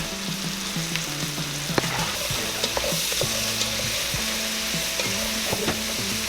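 Mushrooms and celery sizzle steadily in a hot pan while being stirred, with frequent spoon clicks and scrapes against the pan over a continuous frying hiss; no speech.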